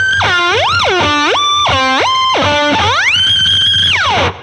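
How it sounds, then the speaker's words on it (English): Electric guitar run through a MonoNeon whammy pedal set two octaves up, playing loud, distorted notes that swoop sharply up and down in repeated bends before a long sustained high note and a final downward dive. "The 2 octave up is pretty much the most used setting in any version of the whammy pedal."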